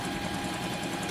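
A Singer M3505 sewing machine hums in a steady, even whir while running a cross stitch, close and continuous with no talk.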